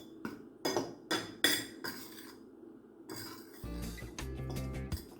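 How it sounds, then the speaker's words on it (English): A utensil clinking against a bowl while spices are mixed into flour, first several separate sharp taps and then a faster run of scraping and clattering strokes, close and fairly quiet with no voices. "We're gonna go ahead and mix everything together."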